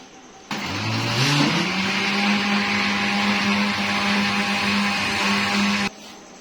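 A loud electric mixer blending a jelly mixture starts up with a rising whine, then runs steadily at high speed before cutting off abruptly near the end.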